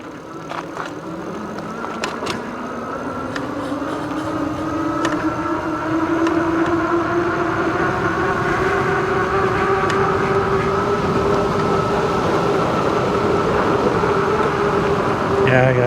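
Engwe X26 2023 folding fat tire e-bike with 26x4-inch tires and a 1000W motor, ridden at full throttle without pedal assist: a steady rising motor whine with tire and wind roar builds over the first seconds, then holds loud and continuous.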